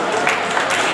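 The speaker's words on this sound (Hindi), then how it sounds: "ताली" Applause from students in a school assembly as the principal is welcomed at a Hindi Day event, a steady, dense wash of clapping filling the brief moment with no pauses.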